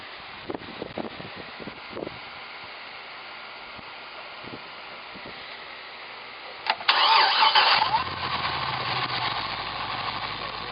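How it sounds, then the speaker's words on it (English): A few faint clicks and clunks, then the V8 engine of a 2014 Cadillac CTS-V cranks and catches with a loud roar before settling into a steady, rumbling idle close by. "we're going to want to start this up, and we're going to listen for vacuum leaks"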